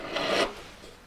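A jeweller's flat file draws across metal in one short, close rasping stroke that fades into quiet.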